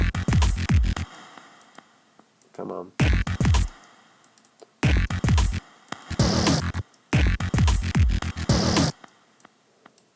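A glitch hop synth passes through a ping pong delay whose filter and resonance are swept by three Max for Live LFOs, loud bursts in four chopped phrases separated by short gaps, with a brief spoken word in between.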